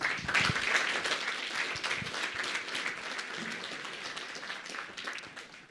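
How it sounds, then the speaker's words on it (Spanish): A church congregation at a Sunday service applauds, many hands clapping loudly at first and then slowly thinning and fading over several seconds, with no speech over it. "vamos a dar fuertes aplausos"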